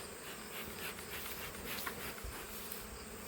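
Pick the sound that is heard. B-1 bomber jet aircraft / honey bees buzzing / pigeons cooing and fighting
honey bees buzzing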